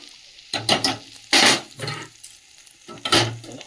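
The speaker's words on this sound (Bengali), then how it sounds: "ফোড়নটাকে ভেজে নিয়েছি, এবারে ডালটা দিয়ে দেবো" Dal is tipped into a hot, sizzling tempering of fried spices with turmeric and ginger, giving several loud bursts of frying and stirring with quieter gaps between them and no talking.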